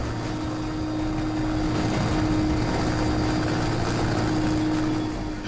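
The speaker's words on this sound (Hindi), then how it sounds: "बाढ़ग्रस्त इलाकों में लोगों तक फौरन राहत पहुंचे, इसके लिए वायुसेना के हेलीकॉप्टर की मदद ली जा रही है।" An Indian Air Force helicopter flies over flooded districts of Bihar during relief drops, its steady rotor and engine drone loud and continuous for the whole stretch with no voices.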